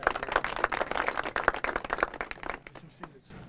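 A crowd at an Algerian gathering claps and applauds in dense bursts, loud for a couple of seconds and then thinning out into scattered claps and near-quiet toward the end.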